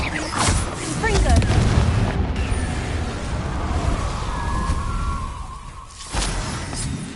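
Confringo blasting spell going off in a Harry Potter video game on PS4, a loud booming burst with whooshing, crackling effects that roll on continuously, swelling again near the end.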